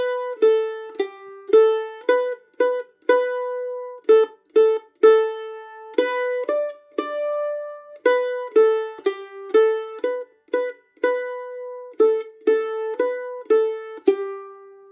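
Mandolin alone plucking the simple melody of Mary Had a Little Lamb, clear single notes in a steady rhythm with short pauses between phrases, close and moderately loud.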